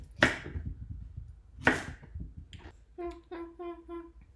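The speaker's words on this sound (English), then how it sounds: "I'm going to cut these into smaller pieces just because I want them to cook faster" A knife strikes a cutting board twice as peeled potatoes are cut into smaller pieces, two sharp close chops, followed by a brief high-pitched vocal sound.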